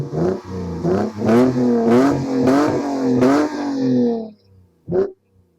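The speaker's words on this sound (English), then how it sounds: "We're going to look at some more of this car, give it some revs, have some fun." A 2002 Lexus IS300 engine revs up repeatedly in sharp, loud bursts, settles back between pulls, then goes quiet before one last short blip.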